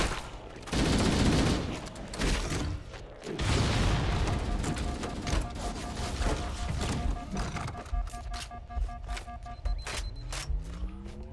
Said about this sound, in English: guy's got a rocket launcher.